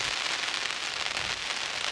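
Wind and rain sweep through riverbank bushes on an autumn afternoon, a steady broad hiss of rain and gusting air, close and unbroken, with no talk.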